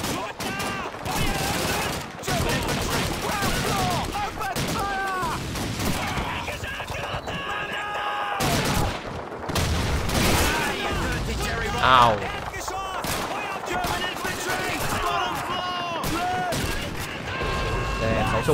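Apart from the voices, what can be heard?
machine gun fire in Call of Duty video game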